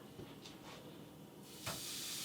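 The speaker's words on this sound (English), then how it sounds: "Yes, it's sizzling. It's sizzling." Faint hissing and sizzling builds as food drops into a hot, sprayed pan, then jumps to a louder, steady sizzle near the end, close up with no talking.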